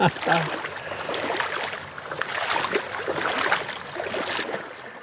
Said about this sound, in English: This water is flowing, flowing, flowing.